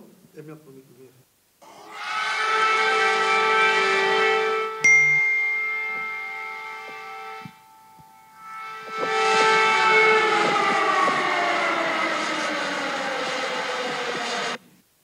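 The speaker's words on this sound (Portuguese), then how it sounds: "Uma sirene é isto, uma cidade." An air raid siren wails over central Kyiv, heard from a room indoors: a long droning tone rises and holds, breaks off briefly, then swells again and slowly sinks in pitch.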